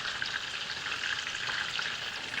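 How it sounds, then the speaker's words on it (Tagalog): Chicken fries in hot oil, giving a continuous soft crackling sizzle with small pops, fairly quiet and steady from start to end, with no voices. "magpa-fried chicken naman tayo. Fried chicken."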